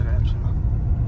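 A Tata Safari engine accelerates in third gear at night, giving a low, steady rumble with a faint turbo whistle on top and a voice briefly talking over it.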